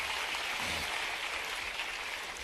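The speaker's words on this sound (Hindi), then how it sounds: "ताली बजाओ सर के लिए" Steady, dense applause from an audience at a live agricultural innovation dialogue event in Bhopal, a continuous broadband clatter of many hands held at even loudness for the whole stretch, with no voices over it.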